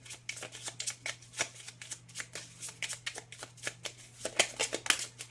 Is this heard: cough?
no